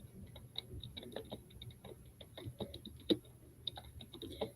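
Computer keyboard typing, a scattered run of light clicks and taps at close range with one sharper key strike near the middle, quiet and alone with no talk.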